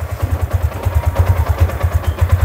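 A Yamaha Sniper 150 motorcycle engine idles roughly with a loud, pulsing low thump and a faint clatter, close by and alone.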